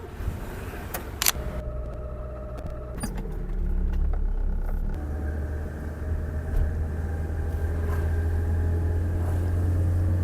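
An old Honda Civic, freshly repainted and prone to overheating, has its engine started at a Jakarta workshop; a low, steady engine hum rises partway through and keeps running evenly to the end.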